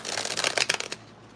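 A deck of tarot cards being shuffled by hand, a dense run of crisp riffling flutters for about a second, close and fairly quiet, then fading to near silence.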